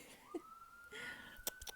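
An ambulance siren sweeps up into a long held tone, faint and distant, with brief sharper noises and light sounds from the room near the end.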